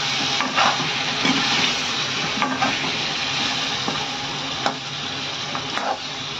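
Chicken for a Bengali chicken kosha sizzles and fries steadily in a pan while a spoon stirs it, scraping in short repeated strokes over the constant loud crackle, with no talking.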